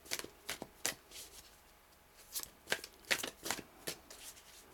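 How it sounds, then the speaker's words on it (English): Tarot cards being shuffled in a series of crisp riffling bursts at an uneven pace, close and clear, with no talk over them. "Let me pull some tarot cards."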